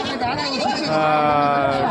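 Goats bleat at a weekly goat market in Gudur, drawn-out cries over crowd chatter, with a person talking close by.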